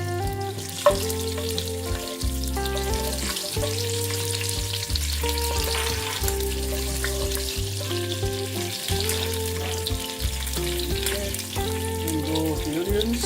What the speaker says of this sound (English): Popping cumin.